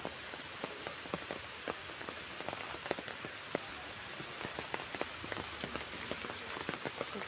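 Steady rain falling on a pond ringed by mango trees and netting in the monsoon, a dense even hiss with many close, distinct drops tapping the water and nothing else.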